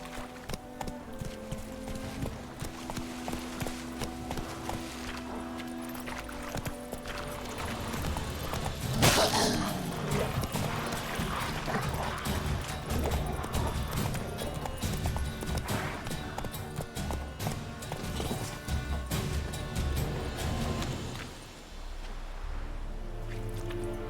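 Hooves of the horse Roach clip-clop in a steady galloping rhythm in The Witcher 3, close and continuous, with a brief whinny-like burst and occasional spoken words.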